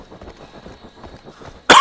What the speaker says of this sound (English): Got a little cough back.